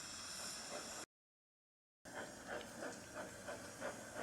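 A wooden toy steam engine from a Thomas railway set lets out a steady hiss of steam, a pause, then a continuing hiss with rhythmic puffing pulses, close and fairly quiet.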